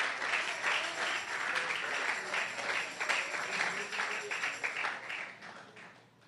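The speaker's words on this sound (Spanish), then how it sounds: "Un aplauso fuerte al Señor" A church congregation claps in praise to the Lord during a worship service, a dense sustained applause that fades out toward the end.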